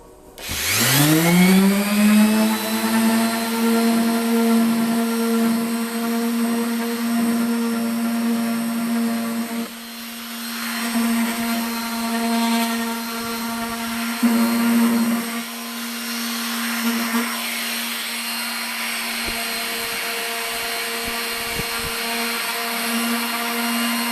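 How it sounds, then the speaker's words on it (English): A loud power sander runs continuously with a steady droning whine, its pitch wavering slightly as it moves across a wooden table surface; no voices. "And now what we hope will be our last sanding."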